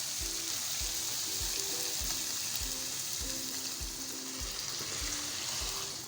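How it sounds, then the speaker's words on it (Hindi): Keema with potato and fenugreek frying in a pan as water goes in, a busy sizzle and bubbling hiss with regular rhythmic knocks of stirring, fairly close and alone. "अब हम इसमें ऐड करेंगे पानी।"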